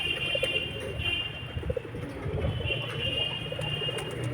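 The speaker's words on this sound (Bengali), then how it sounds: "ও পায়রা দেখো, ভর্তি পায়রা" A flock of pigeons coos in low, overlapping murmurs, steady and moderately close across the whole stretch, with a faint background hum.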